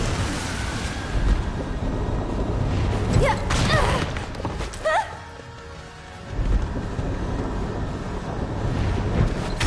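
Wind gusting in the Final Fantasy 7 Rebirth video game, a loud, rushing roar that rises and falls in surges, mixed with brief tonal game sounds near the middle.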